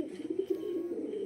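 Heavy booted pigeons coo softly in a pigeon farm, a low rolling burble close by with no voices over it.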